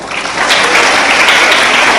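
A church congregation bursts into steady, dense applause during a sermon, a continuous wash of many hands clapping with no voices over it.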